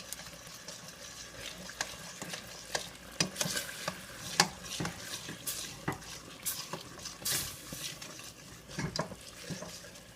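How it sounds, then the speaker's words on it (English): Thai green curry being stirred constantly in a pot so it won't burn: repeated scraping and clinking strokes of a utensil against the pot over a soft, steady sizzle, close and moderately loud, with no talking. "If you don't stir it, it will burn. So you have to keep constantly stir it."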